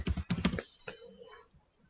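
Quick keystrokes on a computer keyboard while working in a Word document, a short close burst of clicks that tapers into quieter scattered taps.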